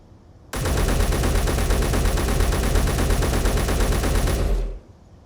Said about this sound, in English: Now to the rapid-fire rifle.